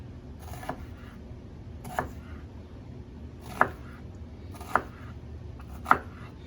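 Knife cutting an onion on a kitchen board, five sharp, separate chops spaced roughly a second apart, close and fairly quiet over a low steady background hum.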